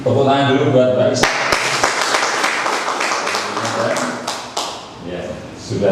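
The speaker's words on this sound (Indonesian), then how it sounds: "Tepuk tangan dulu buat Mbak Isa." Applause for a presenter at an Indonesian network-marketing business seminar, a dense burst of hand claps rising after a brief spoken lead-in and continuing loudly, with voices mixed in underneath.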